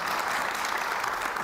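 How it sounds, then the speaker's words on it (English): A conference audience applauds a panel on sustainability and energy in a steady, dense round of clapping that fills the room with no talking over it. "Please give my panel a wonderful round of applause to thank them"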